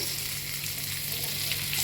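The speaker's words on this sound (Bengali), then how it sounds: "পনিরটা এবার আমি ভেজে নেব" Marinated paneer pieces fry in a pan with an even, dense sizzling hiss that holds steady throughout without pauses.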